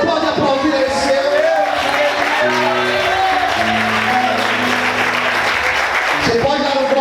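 A church congregation applauds steadily and loudly in a hall while a sustained musical tone and voices carry along beneath the clapping throughout.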